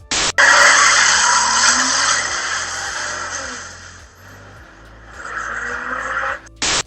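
Tires squeal loudly on a 4th gen Nissan Maxima in a Fast and Furious movie driving scene: a sustained, close screech with rising engine tones that eases off midway, then swells again before cutting out.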